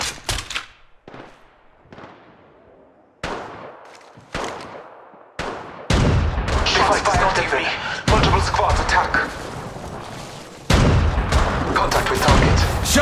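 Gunfire in Apex Legends Mobile, starting as isolated sharp shots with decaying echoes, then building into loud, sustained bursts of rapid automatic fire and heavy impacts.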